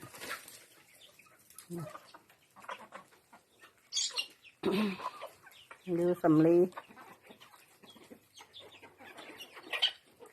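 Backyard chickens cluck and squawk in a few short, close bursts, one louder run of calls in the middle, between quiet stretches where a person talks softly.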